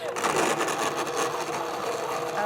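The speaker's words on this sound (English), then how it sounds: "Quick blend in the blender." An electric blender whirs continuously while blending kiwi lemonade, a loud, dense motor roar with a slight rattling texture.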